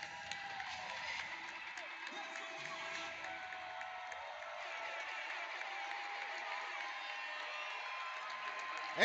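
Crowd noise at an indoor soccer championship final, a steady roar of cheering and clapping throughout, fairly loud and sustained as the home team takes the lead late in the game.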